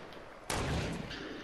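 A single loud gunshot-like blast in the video game Fortnite, striking sharply and then ringing on with a sustained noisy tail, apparently from shots fired at an enemy to the west.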